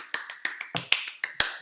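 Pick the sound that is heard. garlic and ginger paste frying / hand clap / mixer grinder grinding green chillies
hand clap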